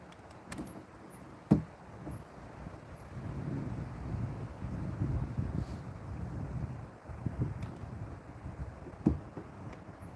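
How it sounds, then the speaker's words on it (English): Gusty wind buffets the microphone on open water while bass fishing from a boat, a steady low rumble with a few sharp knocks and clunks, no talking. "It's so windy."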